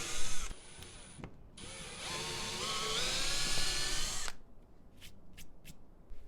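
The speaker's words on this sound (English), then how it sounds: "just angle the drill like I'm doing in the video" A power drill whines steadily for about four seconds with a rising pitch as it bores at an angle into a door jamb, then cuts out, leaving a few faint clicks.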